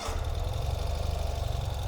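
A 2021 Ural Gear Up motorcycle engine running right after the start switch, a close, low, pulsing idle with a steady rhythmic thrum throughout.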